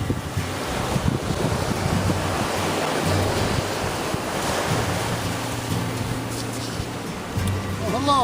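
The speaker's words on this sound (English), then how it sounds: "I'm here by the sea" Ocean waves by the sea on the Nova Scotia coast, a continuous broad wash of surf mixed with gusty wind buffeting the microphone, fairly loud and steady without any talk.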